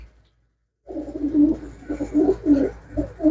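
A pigeon coos close by, a soft rhythmic series of low throaty calls following a moment of silence.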